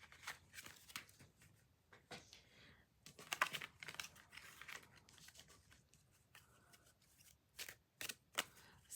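A tarot card deck is shuffled close up in quiet surroundings, with soft riffling bursts and sharp flicking snaps arriving in uneven clusters.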